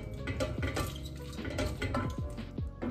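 A pat of plant-based butter melts in a pan amid close clinks and scrapes of a utensil against cookware, with a soft sizzle underneath and no talk.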